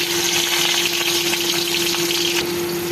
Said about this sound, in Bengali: দেখো এরকমভাবে সব ছেড়ে দিচ্ছি কড়াইতে, দিয়ে এবার এটাকে ভাজা হতে দেবো